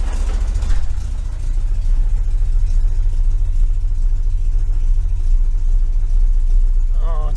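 A 1973 VW Super Beetle air-cooled engine fitted with Dellorto FRD 34 carburetors idles slightly high with a steady, loud low rumble, heard close throughout with a few voice-like sounds near the start and end.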